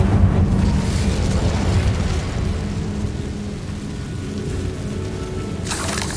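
Incendio fire spell cast in Hogwarts Legacy, a sustained loud roaring, crackling rush of flame-like noise lasting several seconds, steady throughout and alone without speech.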